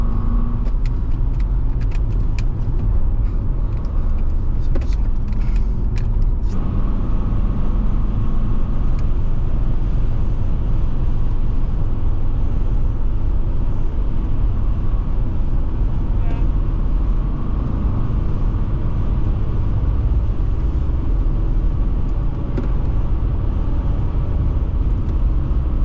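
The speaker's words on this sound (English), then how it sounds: "Hear our tyres a bit, did you hear that?" Steady low road roar of tyres from inside a Mercedes C220 W203 estate driving on a European road trip, continuous and close throughout, with a few brief clicks early on and people talking over it.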